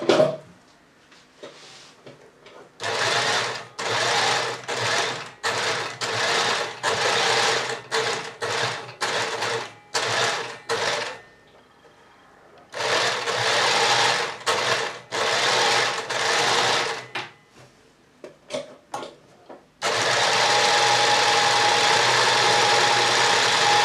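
A sewing machine stitches a box pleat skirt, running loud and close in repeated short bursts with brief pauses between them, then settling into one long unbroken run at the end.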